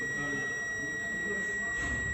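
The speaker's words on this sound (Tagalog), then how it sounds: "and then the long beep still." A continuous high-pitched beep from a digital multimeter continuity test on a transistor, held steadily throughout, with faint background noise beneath it.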